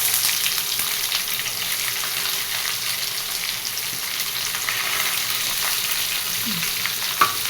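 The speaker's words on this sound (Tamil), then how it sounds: "வெங்காயம் போட்டு நல்லா ப்ரௌன் கலரில் வர்ற வரைக்கும் அதை நம்ம நல்லா வறுக்கலாம்" Sliced onions frying in oil with curry leaves, a steady close sizzle with bubbling crackle that runs without a break, along with a faint stir and a single clink near the end, with no talk.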